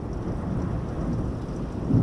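A thunderstorm roars with a steady wash of heavy rain and deep rumbling thunder, loud and continuous throughout, with no voices present.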